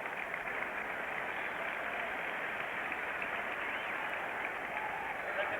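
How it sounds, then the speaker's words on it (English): Steady, dense applause from a crowd for young champions being sent off to a division competition, at a 1979 Cowboys at Steelers football broadcast, a continuous wash of clapping with no breaks. "Now let's send these youngsters to the division competition with a nice round of applause"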